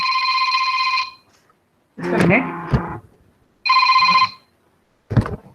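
A mobile phone rings in two bursts of an electronic ringtone, loud and close, alternating with a person talking nearby between the rings.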